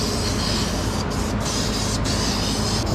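High-temperature flat aluminum spray paint is applied to rusty exhaust pipe brackets from underneath a vehicle. A steady, loud, continuous aerosol hiss runs for the full three seconds with only a few brief pauses, and nobody speaks.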